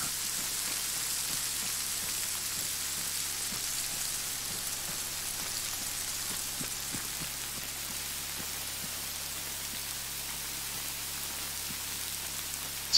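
Heavy rain pours down in a zombie adventure video game, a dense, even hiss of drops on surfaces with faint scattered patters, steady and fairly quiet throughout with no voices.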